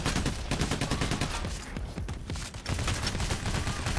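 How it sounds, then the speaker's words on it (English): Rapid sustained gunfire in the heist shooter game Payday: The Heist, dense overlapping bursts of automatic shots with a brief lull in the middle before the firing picks back up. "They really shouldn't be shooting us considering we've got one of their guys"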